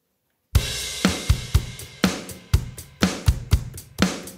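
A drum kit plays a steady rock groove, punchy kick and snare hits landing in a regular pattern with sharp attacks that decay quickly, clear and unaccompanied after a brief silence.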